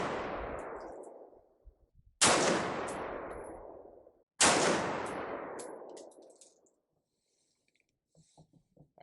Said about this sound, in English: I'll go ahead, I'll shoot a few more rounds